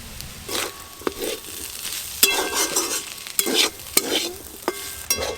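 Ground chilli and roasted spice powders frying in a pan with a cauliflower filling for patisapta pitha, with soft continuous sizzling broken by several sharp scraping stirs of a spatula, close and moderately loud.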